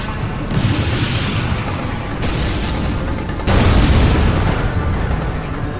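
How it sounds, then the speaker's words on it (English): Tomahawk missile warheads exploding in the game Shockwave, a loud continuous rumble of blasts with a fresh, heavier burst of explosions about halfway through. "Warheads in the field."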